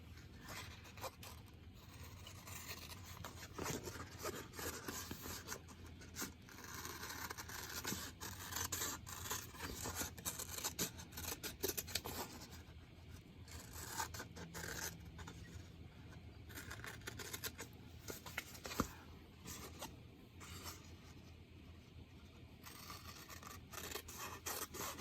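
Scissors cut along a pencil line drawn on paper in a small craft room, a faint, continuous rasping and scraping with small snips, close but quiet, and no talking throughout.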